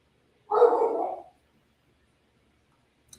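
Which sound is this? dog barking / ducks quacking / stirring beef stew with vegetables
dog barking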